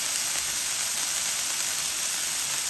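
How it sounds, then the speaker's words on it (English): Burger searing on a Blackstone 17-inch E-Series griddle: steady, even, close sizzle with a bright hiss and no pauses or talk. "Let's give this burger a flip. Got a nice sear on it."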